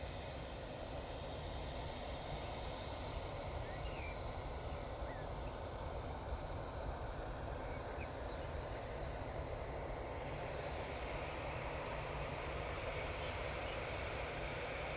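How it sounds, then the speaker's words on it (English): A Ryanair airliner touching down at Manchester Airport, a broad, steady roar of engines and rushing air that stays loud and even for the whole stretch, heard from a distance with no voices. "Ryanair's about to touch down"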